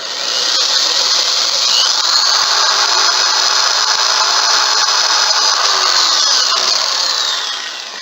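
A power drill bores all the way through a wooden board, its loud whining squeal holding steady for several seconds before easing off as the bit breaks through, with no voices.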